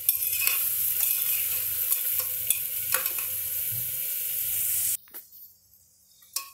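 Onions fry in a pan for mutton stew, a steady sizzle with repeated stirring scrapes for about five seconds, then cutting off sharply into a quieter, fainter stretch near the end.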